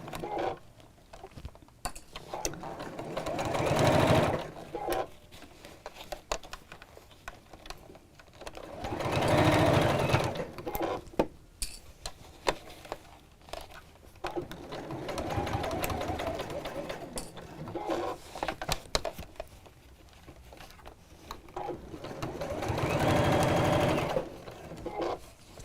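A sewing machine stitches around the curved corners of a fabric case in four separate bursts of whirring, each a few seconds long, with quiet pauses between them.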